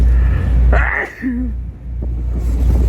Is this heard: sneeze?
yes